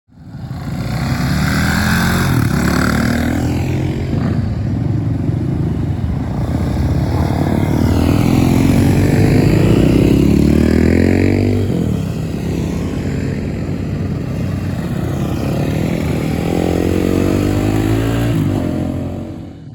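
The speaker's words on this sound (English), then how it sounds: "coming here on his KTM 530" A KTM 530 dirt bike rides past on a California backcountry trail, its engine droning loud and steady throughout with rising and falling pitch as it revs, surging near and then easing away.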